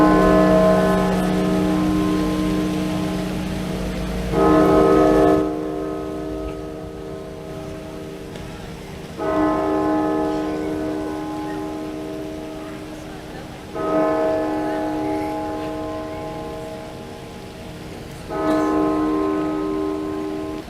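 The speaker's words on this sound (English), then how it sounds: "the bell is very large, very deep, and it's known as Little John" A very large, deep church bell tolls in Nottingham, four slow, resonant strikes spaced several seconds apart, each ringing out and decaying over a soft background hiss.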